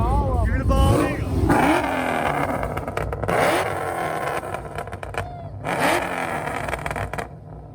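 A Nissan 350Z drift car at a drift event revs hard several times, loud and close, its engine rising and falling in repeated bursts with short gaps between them.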